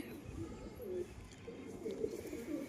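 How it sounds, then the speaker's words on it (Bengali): A female Padma pigeon cooing softly, a few low rolling coos in a quiet, close setting. "এটা হচ্ছে পদ্মা পিলং পিলং কবুতর আছে মাদি কবুতর"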